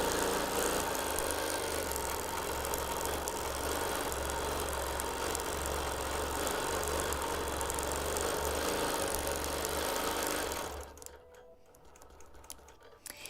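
A longarm quilting machine stitches straight lines across a quilt with a steady, rapid mechanical chatter that runs evenly, then cuts off abruptly and leaves near silence.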